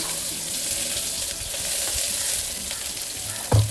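Mustard seeds, cumin, onion, green chili, curry leaves and garlic temper in hot oil in a pressure cooker, a steady close sizzle with light stirring and a brief knock near the end.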